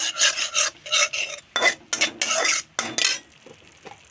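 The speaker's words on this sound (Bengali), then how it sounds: "জিরা গুঁড়ো, দিয়ে নাড়াচাড়া করব" A spatula stirs cumin powder into a moka fish curry in a pan, a run of close, loud scraping strokes in quick bursts over a light sizzle, fading to quieter scrapes at the end.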